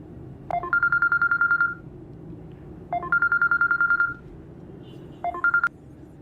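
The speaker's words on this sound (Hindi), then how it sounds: "मैं मीरा को फोन कर रहा हूँ, कॉल ही अटेंड नहीं कर रही।" Touch-tone keypad tones from a telephone being dialed, in three quick bursts of rapid beeps separated by short pauses, close and clear over a low background hum.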